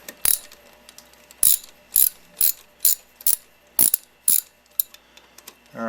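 A ratchet wrench clicks in short bursts while loosening an 11 mm bolt on a motorcycle cylinder head, about nine close, evenly spaced strokes with brief pauses.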